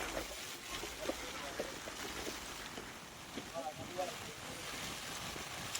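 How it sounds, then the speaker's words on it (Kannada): Strong monsoon wind sweeps across a flooded river bridge in Hassan during heavy rain, a continuous rushing roar with gusts buffeting the microphone and faint voices underneath. "ಗಾಳಿಗೂ ಮಳೆಗೂ ತುಂಬಾ ಸ್ಪೀಡ್ ಇದೆ ಮಾತ್ರ ಇಲ್ಲಿ"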